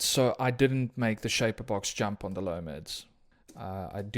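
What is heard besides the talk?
No distinct noise like a dog, phone or traffic.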